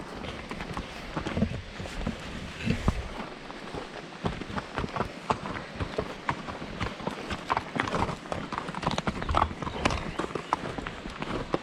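Horse hooves clip-clopping in an irregular rhythm on the ground nearby, with rustling and shuffling movement throughout.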